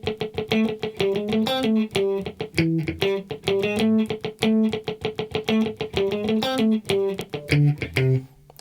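Palm-muted single-note electric guitar line from a song, a short choppy riff repeating in a steady rhythm, close and clear, with no talking.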